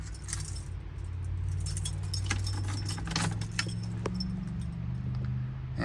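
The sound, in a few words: car keys jangling before starting 1966 Ford F100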